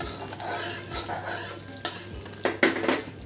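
Cow ghee spread around a hot pan for mango puran poli, with a soft sizzle under repeated scraping strokes of a spoon and a few sharper metallic taps, close and fairly quiet.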